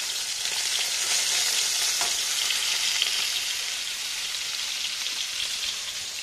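Ash gourd (chal kumra) fries in a pan with a steady, dense sizzle and crackle, close and loud throughout with no voices.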